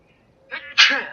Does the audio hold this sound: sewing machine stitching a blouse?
no